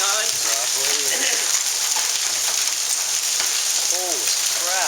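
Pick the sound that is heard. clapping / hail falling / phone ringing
hail falling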